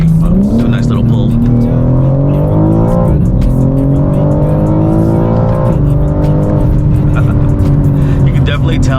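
A BMW G82 M4 pulls hard on the road, its engine loud and close as it climbs steadily through the revs, with two quick gear shifts briefly dropping the pitch before it rises again.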